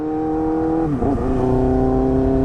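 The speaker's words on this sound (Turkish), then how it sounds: "Oğlum bir egzoz bu kadar mı fark eder?" A motorcycle fitted with a new aftermarket exhaust, recorded up close while riding: a loud, buzzing engine note that dips and then climbs again as the throttle is blipped, with no talk.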